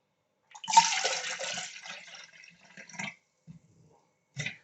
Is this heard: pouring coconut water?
yes